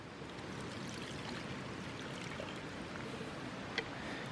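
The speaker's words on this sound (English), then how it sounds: "We're just gonna go ahead and pour in some water." Water poured into a pot of soy sauce instant noodles while backpacking at Slaughter Creek, a steady low trickling wash holding even throughout, with one brief click near the end.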